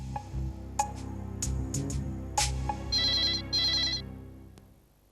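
A telephone rings during an outgoing call in an Indian crime drama, a close, loud electronic melody that repeats for several seconds and then fades out, with no talking.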